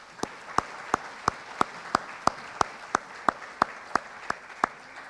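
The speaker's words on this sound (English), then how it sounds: "One more round of applause," An audience at an awards show claps in a steady, unison rhythm of roughly three beats per second over a bed of dense crowd applause.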